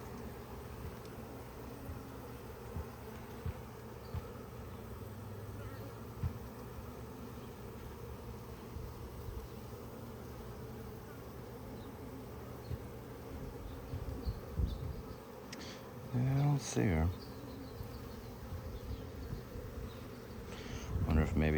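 Honey bees buzzing in an opened hive during inspection, a steady dense hum close by throughout, with a person speaking briefly near the end.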